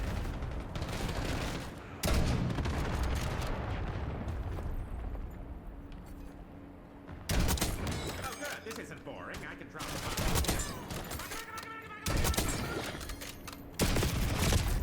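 Sharp gunfire bursts crack out in Black Ops 6 with an HDR sniper rifle, several loud separated shots punctuating a steady bed of game noise.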